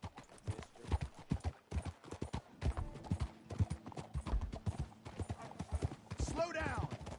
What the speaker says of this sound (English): That is a fine horse right there.